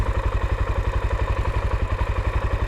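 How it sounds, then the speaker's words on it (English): Kawasaki KLX 400 rally motorcycle fitted with an Adventure Rally X tower and 4-gallon tank, single-cylinder engine running with a steady low, pulsing thump and mechanical clatter, loud and close, no voices. "It's a KLX 400 with an Adventure Rally X tower on the front, a service 4-gallon gas tank"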